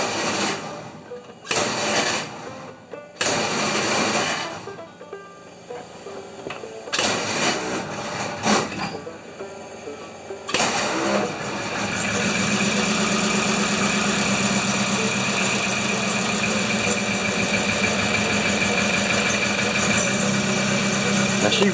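Crosley engine with the choke pulled all the way out, cranking in several bursts with pauses, then catching and settling into a steady, fairly loud run close by, with the crank bursts rough and uneven.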